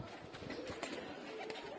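A silver female pigeon coos in low, soft rolling notes, close by, amid a busy loft background with faint clicks and rustles.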